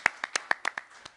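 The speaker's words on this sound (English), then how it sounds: "Let's give her a round of applause." A single person's sparse hand claps at a New York COVID-19 briefing, about eight crisp, close claps in an uneven rhythm over roughly a second.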